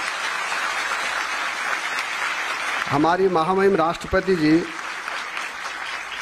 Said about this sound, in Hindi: एक बार सब बच्चे उनको ताली बजाए।